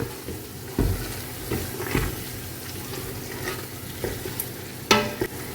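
Onions sautéing in a pan for chicken biryani masala, a steady low sizzle broken by several louder scraping stirs of a spoon against the pan, close and with no talking.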